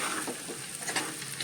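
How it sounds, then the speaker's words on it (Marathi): Potatoes and a ghee tempering being stirred together in a pan for sabudana khichdi, giving a dense, steady sizzle with continuous soft scraping, close and even throughout. "या पद्धतीनं हे व्यवस्थित ढवळून हे बटाटे आणि ही तुपाची फोडणी त्याच्याबरोबर आपण एकजीव करणार आहोत."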